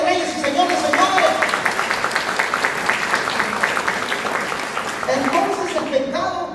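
Church congregation applauding together, a sustained wash of clapping with cheering voices mixed in, fairly loud and continuous for several seconds while a voice speaks over it.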